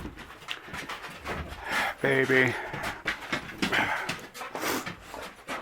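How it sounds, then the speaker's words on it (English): Sheldon the dog pants in quick, breathy bursts and gives a brief voiced yelp or bark close by, with people talking over it throughout. "now we have to listen to Sheldon bark some more"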